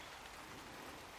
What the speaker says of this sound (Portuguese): o som da chuva deveria abafar meu movimento